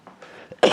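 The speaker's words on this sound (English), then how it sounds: "It's kind of an annoying little cough right now." A single short, harsh cough from a person at a board game table, close and loud after a brief faint throat sound.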